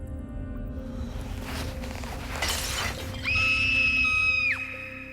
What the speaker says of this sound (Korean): 유리창이 깨졌나? 떨어지는 소리 아니야?